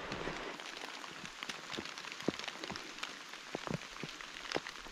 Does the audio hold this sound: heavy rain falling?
yes